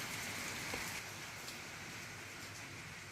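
Steady rain falls on a surface at night, a dense even hiss with soft scattered drops, no voices present.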